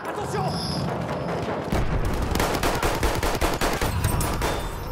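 M1907 submachine gun fire in a first-person shooter game, rapid sharp bursts of shots in the second half over continuous battle noise, loud and close.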